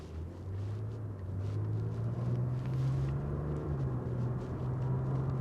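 Interior of a 2017 Lexus RX350 on a test drive: a steady low engine and road rumble that rises slightly in pitch as the SUV accelerates, smooth and continuous with no talking.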